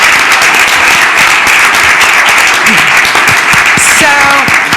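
At a city council meeting, a room full of people claps loudly and continuously, a dense close wash of applause with a few voices calling out beneath it.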